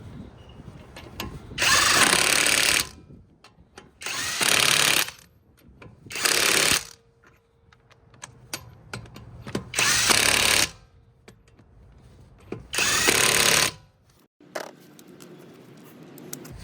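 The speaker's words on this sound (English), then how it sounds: "Lug nuts, I like to use the second one." An ALLOYMAN 1/2 inch impact wrench hammers on car lug nuts in five loud rattling bursts of one to two seconds each, separated by quieter pauses with faint clicks and handling noise.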